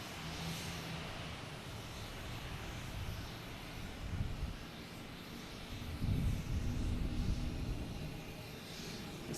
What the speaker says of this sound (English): It's a JetBlue coming in from Traverse City, an A220.